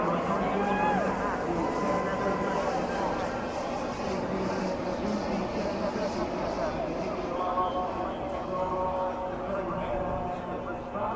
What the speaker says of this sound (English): Wow, the Trump jet.